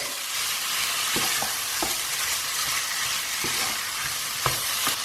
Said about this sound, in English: I'm now going to add some frozen peas, mix that through, and just give this a minute.